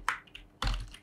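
Fingers tap a computer keyboard at close range in a brief burst of quick, quiet clicks, with no talking.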